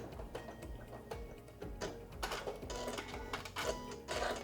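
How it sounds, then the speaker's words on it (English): A sewing machine runs a lock stitch on fabric binding, with a fast, even mechanical clatter of needle strokes close by, fairly quiet and with no talking. "go ahead and do a lock stitch to lock our stitches and trim your threads"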